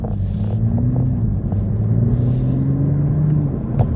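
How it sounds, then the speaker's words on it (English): A steady low engine hum drones inside a moving 2023 Toyota GR Supra 3.0 sports car, with a faint rising whine and soft hissing puffs of air now and then. "You can hear that little engine purring,"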